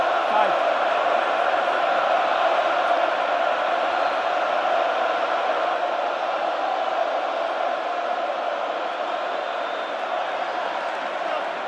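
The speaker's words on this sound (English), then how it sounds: "Just listen to that crowd." A packed stadium crowd roars through a British & Irish Lions versus Wallabies rugby test match, a dense sustained wall of cheering and shouting that holds loud and steady, with no individual voices standing out.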